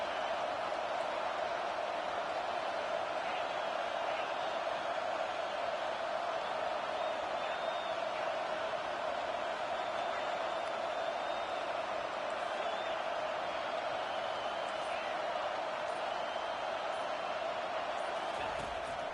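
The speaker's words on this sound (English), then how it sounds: "Here comes this home crowd as the defense tries to get off the field on third down." A home football crowd roars steadily as the defense plays third down, a dense, sustained wall of cheering from a packed stadium with a faint announcer's voice underneath.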